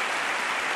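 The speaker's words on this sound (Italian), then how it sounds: "Si prenda tutti questi applausi." Audience applause at an Italian Army band concert, a dense, even wash of clapping from a large crowd, steady and moderately loud throughout the short stretch.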